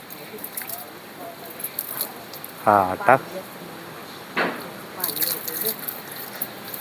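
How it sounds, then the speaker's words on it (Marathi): Water poured from a container onto a lemon tree and other plants, splashing and trickling in short bursts beneath people talking nearby. "लिंबाच्या झाडाला लय पाणी मारत जाऊ नको"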